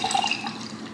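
Coconut water is poured over ice into a cup, giving a brief, close splashing trickle of liquid with faint clinks. No one speaks.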